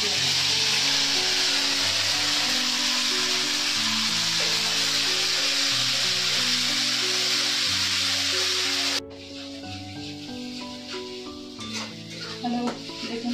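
Cloves, cardamom, cinnamon and dried red chili crackle and sizzle loudly in hot oil for about nine seconds with background music playing; then the hiss cuts off abruptly, leaving the music with faint clinks.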